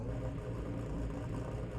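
A Skoda Octavia race car idles in Car Mechanic Simulator 2021, giving a steady, close, throaty low rumble with an even, unchanging tone throughout.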